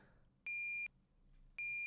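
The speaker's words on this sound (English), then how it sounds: "I'm going to turn it down a little too because the beeps are just loud." Two loud, pure electronic beeps from a Tetris prototype, each lasting under half a second, separated by a gap over a faint low hum.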